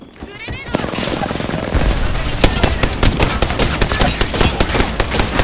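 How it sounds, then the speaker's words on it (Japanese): Loud, rapid automatic gunfire from the shooter game Apex Legends, with a near burst of sharp cracks that builds into a dense, continuous volley over a few seconds. "俺を撃ってるのか"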